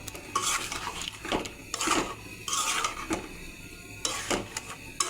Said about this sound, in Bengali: এবার আলু ডিম মশলার সঙ্গে ভালো করে কষিয়ে নেব।